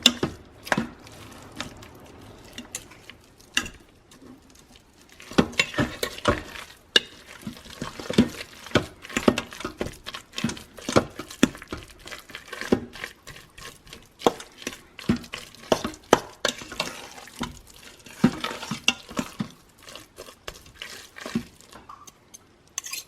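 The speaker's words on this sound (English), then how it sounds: "So I'm just gonna shred the chicken." Cooked slow-cooker chicken being shredded with a utensil for a healthy quinoa meal, making repeated scraping and stirring clicks against the pot, close and moderately loud, with bursts of busy activity and brief pauses.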